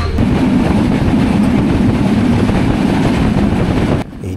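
The Ekota Express passenger train runs at night, heard from inside a coach as a loud, continuous rumbling roar with rail clatter that drops slightly near the end.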